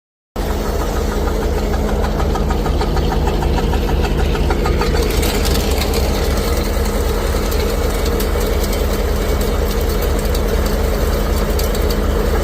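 A T-25 tractor engine, warmed up on a cold morning with thickened oil and fitted with an auger wood chipper, runs loud and close with a steady diesel chug and knock, no talking.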